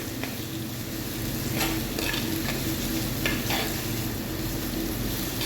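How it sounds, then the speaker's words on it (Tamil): Onions with salt sautéing in a pan for fish curry, a steady close sizzle of frying with continuous stirring and scraping throughout. "உப்பு தேவையான அளவுக்கு இப்போ சேர்த்து வெங்காயம் கூட சேர்த்து இது பண்ணுங்கள் நல்லா வதங்கும் வெங்காயம்"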